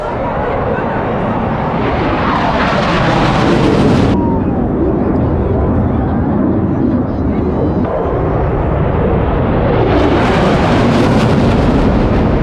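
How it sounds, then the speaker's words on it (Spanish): Low-flying airplanes roar over the river at the Brisbane Festival, a loud broadband rush that swells, dips midway and surges again, with crowd voices mixed in throughout. "primero van a venir unos aviones que vienen volando por todo el río, van a pasar muy cerca del río"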